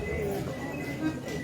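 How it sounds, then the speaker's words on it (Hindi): Birdsong plays during an outdoor Ramlila stage performance, with steady thin chirps and coo-like tones held against a constant background murmur at moderate loudness. "पक्षियाँ चहचहाने लग जाएं"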